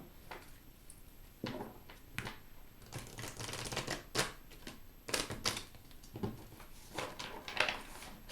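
Tarot cards being shuffled, a series of faint, irregular riffling and tapping bursts with quiet gaps between, close by and without talk.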